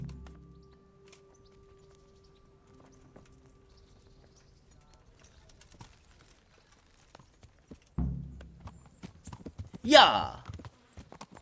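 A horse in the medieval video game Kingdom Come: Deliverance clops its hooves in sparse, quiet beats at first, then louder. Someone shouts once over the top.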